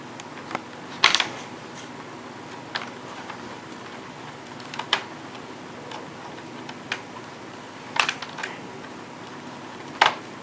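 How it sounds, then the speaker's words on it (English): A small screwdriver turns a screw into a Dell Inspiron 1545 laptop, producing sparse, faint ticks and clicks over quiet room noise, with a few sharper taps. "Now you just put your last screw in."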